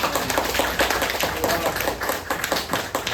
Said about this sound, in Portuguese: Uma salva de palmas para o Senhor Jesus.